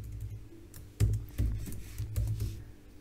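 Typing on a computer keyboard to enter a web address, with a short burst of close key clacks and a few firmer strikes, no speech over it.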